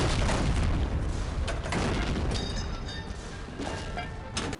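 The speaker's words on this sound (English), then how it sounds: "The cannon is a terror to behold too" Cannon fire from Medal of Honor: Allied Assault rumbles as a dense, continuous roar of heavy booms and crashing blasts, loud and close, with overlapping detonations and no pauses for the whole stretch.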